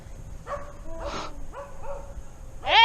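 A small dog in the bushes gives several short, high yips and barks spaced over a few seconds, moderately close against quiet outdoor background, ending with a sharper bark.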